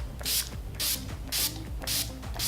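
Skindinavia makeup finishing setting spray hisses out of its bottle in five quick, even bursts, close up and fairly loud, with no talking.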